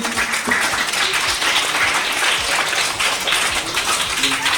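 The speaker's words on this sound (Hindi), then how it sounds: "भरपूर तालियां होनी चाहिए इस बेहतरीन परफॉर्मेंस के।" An audience claps steadily through a dense, continuous wash of applause after a song at a Pakistani Independence Day (14th August) celebration show, loud and sustained with no talk over it.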